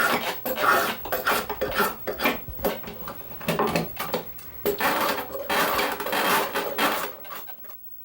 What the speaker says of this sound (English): That frees my hands up to use a jaw knife